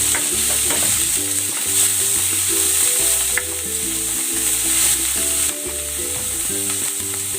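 Ground pork and onion fry together in a pan with a loud, steady sizzle and occasional stirring scrapes, under background music.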